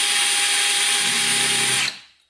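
A small drill bit boring a hole through a 4L80E transmission drum, a loud, close, steady high-pitched power-drill whine that stops abruptly near the end, followed by quiet.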